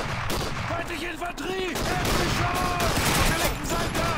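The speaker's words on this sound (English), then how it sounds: "They're still shooting." Enemy gunfire in Call of Duty 2, rapid overlapping rifle and machine-gun shots crackling nonstop in a dense battle mix, with voices shouting over the shooting.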